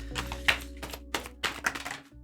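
Tarot cards being shuffled by hand, a series of short crisp riffling bursts and taps separated by brief pauses, close and fairly quiet.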